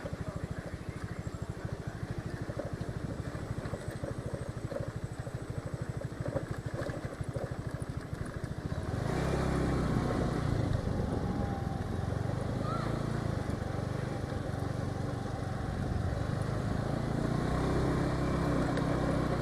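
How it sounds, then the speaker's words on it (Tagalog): Several motorcycle engines idle and rumble nearby, growing louder and busier partway through, with faint voices in the background. "So mao ning daghang mga motor."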